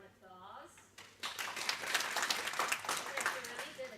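An audience at a Toastmasters club meeting breaks into applause for a speaker, a burst of clapping that starts right after a short spoken line and carries on to the end.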